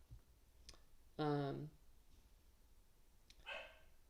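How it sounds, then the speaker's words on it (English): A puppy gives a single short, harmonic bark-like yelp at close range, followed a couple of seconds later by a fainter, higher second yelp, over a quiet indoor background. "Sorry, that's my puppy."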